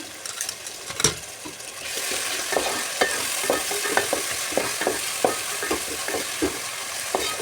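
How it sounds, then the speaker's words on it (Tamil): Tomatoes sautéing for chicken gravy produce a steady close sizzle with rhythmic scrapes and taps of a ladle stirring the pan, after a few quieter knocks at the start. "கிரேவிக்காகத்தான் தக்காளி போடுறோம். அது பச்சை வாசம் போகிற அளவுக்கு வதக்கிக்கணும்."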